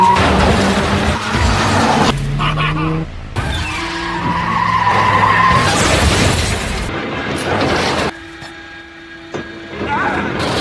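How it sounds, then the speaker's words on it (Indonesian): Race car skidding in an action movie, loud tire squeals and engine roar mixed with heavy impacts and booming crashes, cut into abrupt bursts with brief quieter gaps and some talk in the mix. "Akibatnya, mobil mesin gun Joe harus terhenti karena tergelincir"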